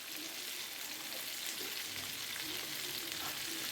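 Pieces of crispy breaded fried chicken fry in hot oil, a steady, dense bubbling sizzle with fine crackle throughout, close and even, with no voices.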